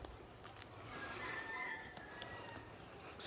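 A rooster crows once in the distance over faint outdoor background noise in Matabungkay, Lian, Batangas, the call rising and then trailing off.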